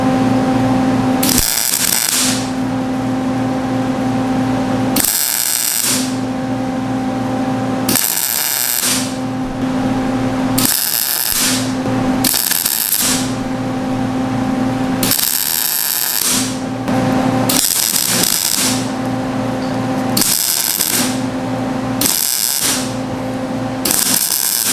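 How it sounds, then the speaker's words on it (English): A Lincoln MIG welder joining a washer onto steel pipe for a Polaris RZR 570 seat guard bar runs in repeated bursts of steady crackling buzz, several seconds each, separated by short pauses, with a constant hum underneath. "I need to go ahead and weld this washer on"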